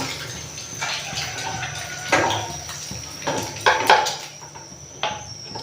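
Metal cooking pots clink and scrape on a home stove as one is lifted off while making tomato egg curry, several short knocks over a faint running-water hiss, no talking.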